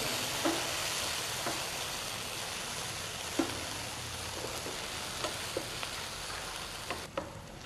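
Broken dried red chillies, mint and coriander are lightly sautéed in a pan for masala grilled chicken, giving a continuous soft sizzle with scattered clicks and taps from stirring.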